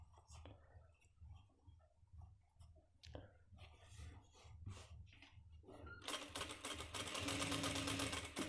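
An electric sewing machine stitches the back pocket of a gents' trouser, starting with scattered taps and soft handling noises, then breaking into a loud continuous whirring run near the end.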